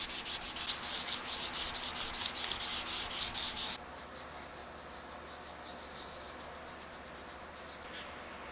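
Steady abrasive rasping of sandpaper worked across a custom guitar body, loud and continuous at first, then dropping to a lighter, quieter scratching rhythm for the remainder.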